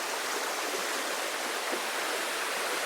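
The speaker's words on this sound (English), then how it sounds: "As you see, lots of water going down, not flooding yet." Heavy water rushing down beside a countryside footpath in the Petite Creuse, a loud, constant broadband roar of flowing stream with no pauses and no voices.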